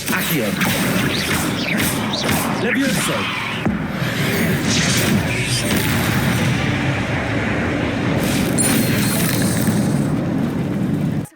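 Spells cast in the video game Hogwarts Legacy, booming magical blasts and crashing impacts over a dense, loud game soundscape, with a voice speaking throughout.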